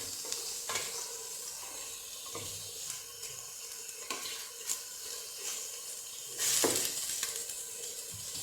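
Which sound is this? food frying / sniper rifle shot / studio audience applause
food frying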